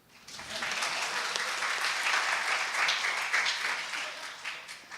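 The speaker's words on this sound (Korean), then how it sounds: "박수 안 쳐요?" Lecture audience at a diplomacy academy talk breaking into applause, a dense steady wash of many hands clapping that swells and holds, then starts to thin toward the end.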